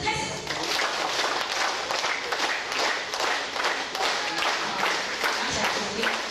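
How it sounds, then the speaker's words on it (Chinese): An audience at a temple scripture-class gathering applauds on cue, a dense, sustained wash of many hands clapping with a loose rhythmic pulse. "最后一次来，掌声开始。"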